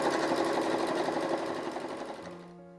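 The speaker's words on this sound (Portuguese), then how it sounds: "Eu também vou pespontar somente na parte que está costurado." A sewing machine topstitches fabric for a fabric wallet, its needle whirring in a fast, even, continuous hum up close, slowing and stopping at the very end.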